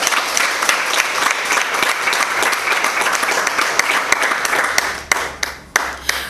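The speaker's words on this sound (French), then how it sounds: "à qui nous demandons de s'applaudir" Loud, sustained applause from an audience at a francophone event thanking a school group, dense clapping throughout that thins into a few scattered claps near the end.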